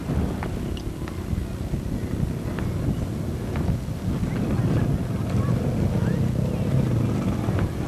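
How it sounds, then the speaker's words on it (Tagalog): Steady wind rushes past the microphone on a boat outing in Malabon or Laguna, a dense low roar that holds for the whole stretch, with faint scattered knocks and murmurs beneath it. "Hangin naman."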